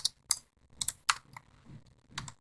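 Rapid, uneven clicking of computer keyboard keys as text is typed during a web design tutorial: several sharp, close keystrokes in short bursts, with quiet gaps and no talking.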